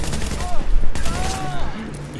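Light machine gun fire in The Division rattles as a dense, loud burst of rapid gunshots with tonal whistles and impacts in a video game fight, over a busy mix of game sound.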